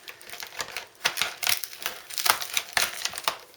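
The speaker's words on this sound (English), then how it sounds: "That's why I'm using scissors." Rapid, irregular snipping and crunching from scissors cutting through a stiff spray guard material in a garage, close up, with short bursts of sharp clicks and no talking.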